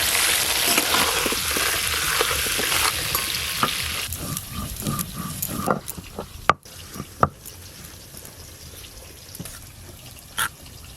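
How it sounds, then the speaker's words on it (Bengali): Potatoes frying in hot oil for Kashmiri aloo dum, a dense sizzle that is loud at first, then thins out, with scattered stirring knocks and clinks over the last seconds. "এবার আলুগুলো খুব ভালো করে লাল লাল করে ভেজে নেব।"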